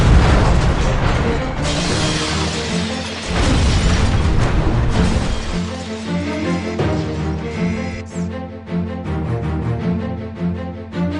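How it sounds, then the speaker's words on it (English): Explosions go off in a bank in the video game Fire Department 3: heavy booming blasts and crackling bursts arrive in quick succession, loud and close, then give way to lighter rattling debris sounds. "Sudden explosions went off in several places in the bank."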